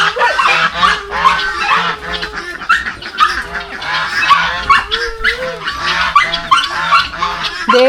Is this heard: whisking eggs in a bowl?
no